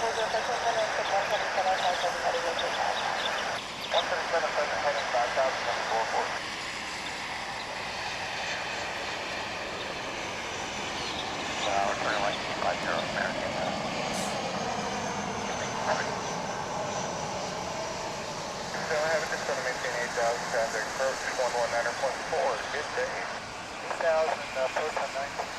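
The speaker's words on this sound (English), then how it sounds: "Of course, Sun Country does a lot of seasonal service" A Sun Country airliner at DFW airport makes a continuous jet engine roar that holds steady and fairly loud throughout, with a voice talking quietly underneath.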